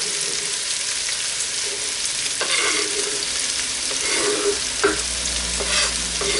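Jalapenos and celery sizzle loudly in a pot for red beans and rice, a steady crackling fry with a few sharp stirring knocks and clatters near the end.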